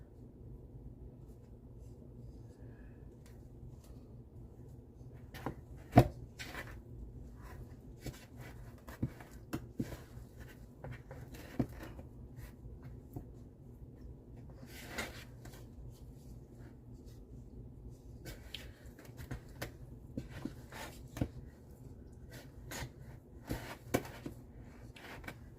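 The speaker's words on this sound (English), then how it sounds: "Put some on my hand because I am going to knead this with my hand." Bread dough being kneaded by hand with a little flour, giving soft irregular slaps, rubs and scrapes over a steady low background hum, close up and with nobody talking.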